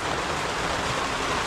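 Heavy rain pours in a dense, steady hiss with no breaks across the whole stretch, with no voices.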